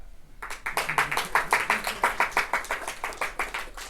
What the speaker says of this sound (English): Now you clap.